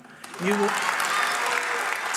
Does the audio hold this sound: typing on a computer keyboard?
no